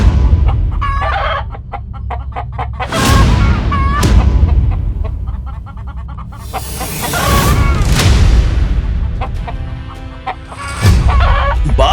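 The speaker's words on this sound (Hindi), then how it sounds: "जायंट मुर्गी फ्लाइट के ऊपर हमला करती है" A giant cartoon hen clucks and squawks in loud, close bursts during a battle with a flying robot, with crashes and whooshes between the calls.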